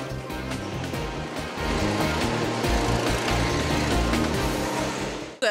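Go-kart engines race on a kart track at a driver competition, a dense, continuous buzzing drone with shifting pitches as several karts pass, loud and steady throughout with a brief louder burst at the very end.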